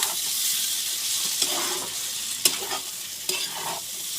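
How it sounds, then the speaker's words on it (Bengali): Cabbage frying in oil in a wok, a soft steady sizzle with a few sharp scraping stirs of the utensil against the pan. "এখন তেল ছেড়েছে, চলচল করছে তেলে।"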